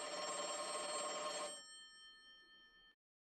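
An old-style telephone bell rings loudly and continuously in the small hours, then stops abruptly, leaving a faint fading tail before silence.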